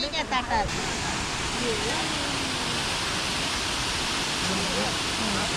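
A waterfall roaring in a constant broad rush of falling water, loud and steady, with a voice talking briefly at the start.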